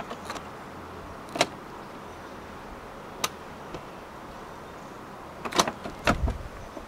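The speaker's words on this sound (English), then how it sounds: "The X7 also does come standard with self-closing doors." Self-closing doors on a 2021 BMW X7 pull shut with several short, faint thuds and clicks, scattered in a quiet cabin setting with a tighter cluster of latching sounds near the end.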